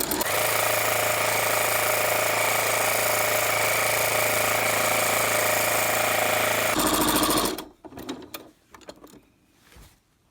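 A sewing machine stitches a baby burp cloth in a loud, steady, close mechanical whir that runs for about seven seconds, then stops, leaving a few faint clicks and handling noises.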